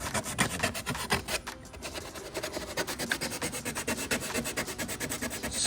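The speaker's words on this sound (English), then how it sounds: "Sanding, so we got to sand that one right here because it rubs." Steady rhythmic hand sanding of a car part that rubs against the bumper on a Lexus IS300, a close, continuous rasping scrape with regular back-and-forth strokes.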